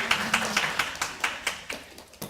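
A small audience at a Buddhist talk claps in a sparse, slightly uneven rhythm, about ten separate claps spread over a couple of seconds, close and fairly clear, with no talk over them.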